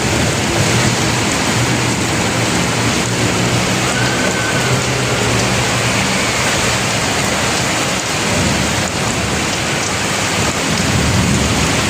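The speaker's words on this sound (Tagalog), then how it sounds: "Vlogger, naabutan ng ulan." Heavy rain pours in a strong storm with gusting wind, a loud, continuous roar of downpour close by, steady throughout with faint rumbles underneath and no voices.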